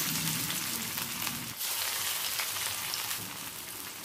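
Jute leaf fritters dipped in besan batter fry in hot white oil over a medium-high gas flame, a loud continuous sizzle with crackling bursts as pieces go in.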